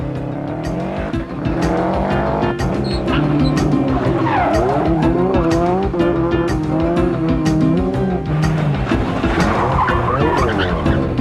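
A rally car at the 1991 Manx International Rally skids through a handbrake turn, its engine roaring loud and close with tyres squealing and scrabbling for about ten seconds.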